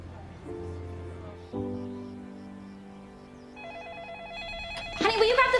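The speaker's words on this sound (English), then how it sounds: "will you grab the phone, please?" A telephone rings with repeated electronic tones that grow louder and busier toward the end, starting over soft background music in a cartoon setting.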